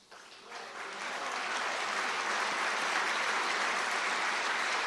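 A large crowd applauds steadily at a post-arrest press conference at Mar-a-Lago, the clapping swelling quickly and holding loud and dense throughout.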